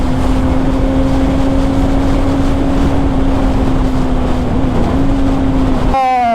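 Kawasaki Ninja ZX-6R motorcycle fitted with a long aftermarket exhaust can, a steady loud engine drone holding a constant pitch throughout while riding, with a brief rising rev change near the end.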